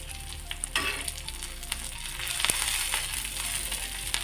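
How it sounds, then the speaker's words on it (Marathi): Chickpea greens fry and sizzle in a pan while being stirred, a steady crackling hiss punctuated by scraping and clicking of the spatula, close and moderately loud throughout. "यामध्ये भाजी घालून घेऊ. भाजीला हलवून घेऊया."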